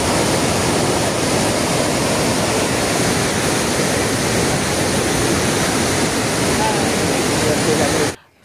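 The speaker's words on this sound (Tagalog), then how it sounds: "Takas ng tubig guys." Water rushes through Wawa Dam in a loud, unbroken roar that holds steady throughout, then cuts off abruptly at the very end.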